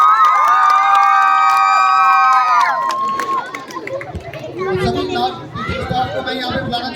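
At a school Diwali function, an audience of children and adults cheers and claps for the teachers, following a sustained tonal musical note, with lively crowd noise and talking.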